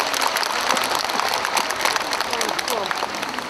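An audience at the opening ceremony of the 12th World Korea Arirang Festival applauds the chairman of the Jeongseon Arirang Cultural Foundation, a dense, steady round of clapping.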